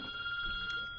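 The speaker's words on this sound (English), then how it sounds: "Is that... That's my phone." A telephone rings across a one-second stretch, its steady electronic tone held evenly at moderate loudness against a faint room background.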